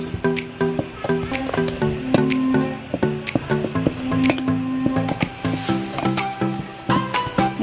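A spoon scrapes and taps rhythmically in a bowl, stirring pancake batter made with flour, salt and sugar in a steady run of close, moderate clicks and soft squishes.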